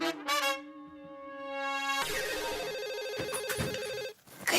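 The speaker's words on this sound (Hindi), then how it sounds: "देख जा रही घंटी जा रही।" A phone ringtone plays, a steady harmonic melodic tone that shifts pattern partway through, clear and close with no talking.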